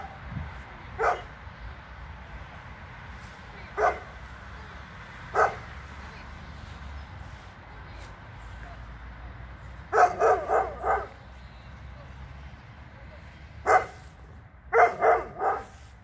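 A dog barks in a large garden in the Netherlands, giving single barks spaced apart and then quick clusters of three or four, moderately near over quiet outdoor background.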